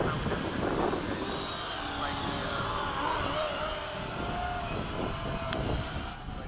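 A model F/A-18 jet makes a low pass, its whining, rushing engine tone sweeping past under steady background noise while people talk nearby throughout.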